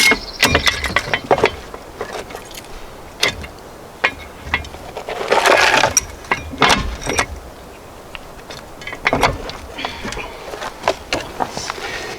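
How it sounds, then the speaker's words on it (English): A steel wheel boot lock being fitted to a trailer wheel: close metallic clanks, rattles and ratchet clicks come in uneven bursts with brief pauses. "This is called a boot, and it locks on your wheel."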